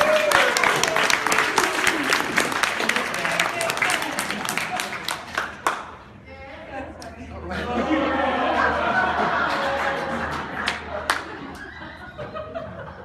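A Scout pack audience applauds a boy's award with brisk clapping and some chuckles, fading briefly midway before a second wave of clapping and chatter, with voices talking throughout.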